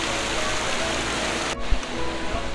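Umbrella Waterfall pours out a loud, steady, close rushing roar of falling water, broken by a brief dip and a low thud partway through before the torrent resumes.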